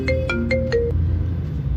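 A phone ringtone for an incoming call chimes four quick tonal bursts in a steady rhythm, then stops, leaving a low room hum behind.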